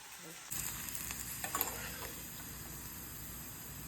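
Rice vadiyalu (fryums) frying in hot oil give a steady, fairly quiet sizzle that swells with a few sharper crackles near the start and then settles into an even hiss, with no voices.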